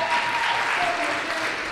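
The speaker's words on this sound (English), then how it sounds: "Clap it up for those 7 poets, please." An audience claps steadily for seven poets at a youth poetry slam round, a dense, even wash of applause throughout.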